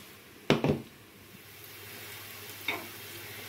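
Sea bass and squid with onion, garlic and salt hit a hot pan, giving two sharp sizzling bursts near the start and a smaller one later over a soft, continuous frying hiss.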